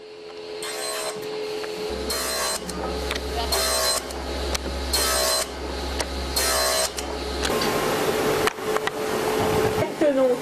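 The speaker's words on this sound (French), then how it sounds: "la première opération consiste à découper la matière en rectangles, appelés copeaux" A workshop machine cuts eyeglass frame material into rectangular blanks for handmade Alain Mikli glasses, a low steady motor drone with repeated bursts of bright whirring cutting, loud and close, ending in a rougher grinding rasp.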